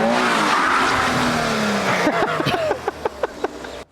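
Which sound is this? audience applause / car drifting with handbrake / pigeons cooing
car drifting with handbrake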